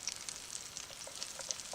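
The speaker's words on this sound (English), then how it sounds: "Yeah, the old onions sizzling away." Onions fry in fat in a pan over a homemade grate, a steady crackling sizzle with small pops and spits, close and continuous without speech.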